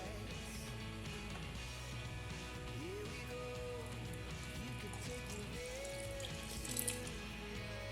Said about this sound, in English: let's add water